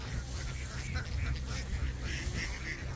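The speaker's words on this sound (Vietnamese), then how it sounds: "này là bầy vịt đẻ nè" A large flock of laying ducks, well over a thousand birds, quacks in a dense, continuous clamor that stays steady and loud throughout, with no voices above it.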